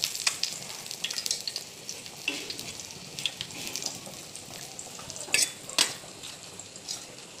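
Many pieces of fish fry in a pan of hot oil, giving a steady close sizzle with crackling bursts and the occasional scrape of stirring, with no voices.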